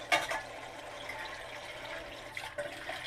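Water sloshing and trickling as calamari are cleaned underwater and their eyeballs removed, with a small splash near the start and steady faint running water throughout.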